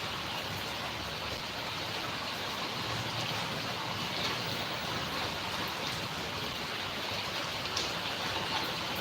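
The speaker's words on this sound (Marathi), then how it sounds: "चालू झालेला आहे खूप पाऊस आहे" Heavy rain pours down in a steady, dense hiss that holds at an even loudness throughout, with no voices and no clear breaks.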